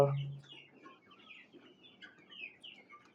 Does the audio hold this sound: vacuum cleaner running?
no